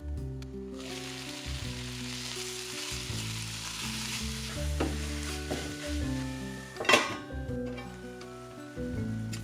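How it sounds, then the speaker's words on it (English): Onions frying in a pan for Indian egg curry, a steady soft sizzle with repeated scraping stirs and a brief clink near the end, no voices. "continue to stir these onions until they get dark and jammy"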